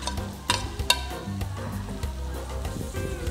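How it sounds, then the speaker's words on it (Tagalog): Chopped onion and celery sizzle in a pan while being sautéed. There is steady frying hiss with a few sharp knocks of a spoon or stirring, and no talking. "Let's just saute this for about 30 seconds."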